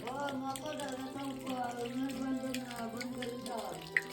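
Water flows strongly from a source in a Konkan village, a continuous rushing stream under a steady hum of surrounding noise, close by.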